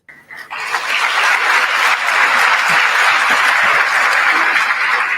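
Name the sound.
auditorium applause for a speaker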